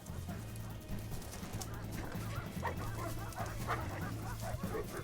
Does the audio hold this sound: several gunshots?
no